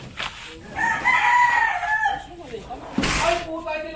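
A rooster crows near a building site, a rising then falling call against background noise and voices, with another burst of noise partway through.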